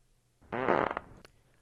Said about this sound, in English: These like fart sound effects for when the eggs and the hot dog come out of the bird.